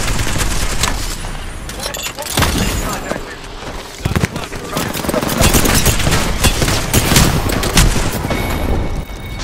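Rapid bursts of gunfire crackle through an Apex Legends match, loud and dense with repeated automatic volleys and impacts, while players talk over the shooting.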